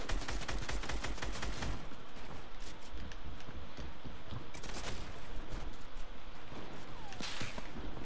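Rapid bursts of video-game gunfire, dense and loud, crackle through most of the stretch with a brief lull in the middle, over a constant backdrop of game noise.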